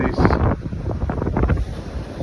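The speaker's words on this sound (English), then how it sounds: "And you see it's very windy" Strong wind buffets the microphone at a seaside spot, a loud continuous roaring rumble with gusting surges, and no other sound stands out.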